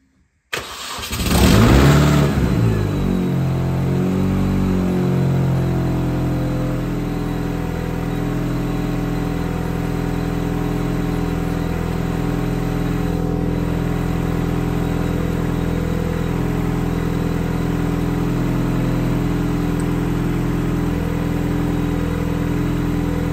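A Mini with a fault cranks and fires up, gives a short rev, then settles into a long, steady idle close by with a constant low hum and a high whine, no talk.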